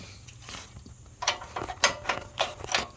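Parking brake cable adjuster on a Ferris FW35 commercial walk-behind mower turned by hand, giving a run of close, rhythmic ratcheting clicks with no talking.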